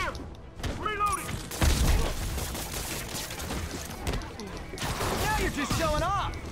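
Gunfire in the Marvel's Spider-Man video game during a bank robbery: dense, continuous bursts of shots and impacts under game music and character voices, loud and busy throughout.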